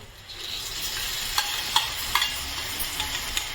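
Ground tamarind paste being stirred in a frying pan with salt, a soft continuous sizzle broken by several sharp scraping knocks of the spoon against the pan.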